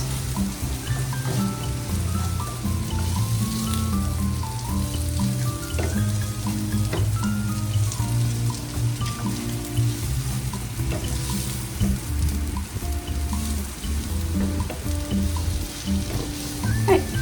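Seasoned potatoes frying in a pan and being stirred, a steady close sizzle running throughout with scraping and clinking from the mixing, while a faint tonal background plays underneath.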